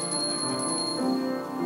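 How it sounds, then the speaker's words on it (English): A small bell rings out with a clear, sustained metallic tone and shimmering overtones, close and steady, fading slightly, with no voices. "every time a bell rings, an angel gets his wings"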